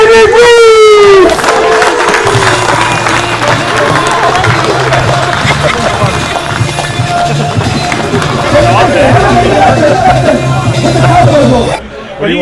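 A loud crowd at an ice fishing show cheers and claps for a new champion, the noisy roar continuing throughout with shouts and voices mixed in before cutting off near the end.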